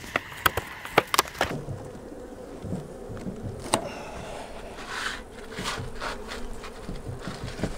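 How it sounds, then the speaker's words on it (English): Honey bees hum and buzz around a freshly combined hive on its bottom board, a faint, wavering drone broken by a few sharp knocks and handling clicks early on. "We still got a good number of bees over here on this bottom board."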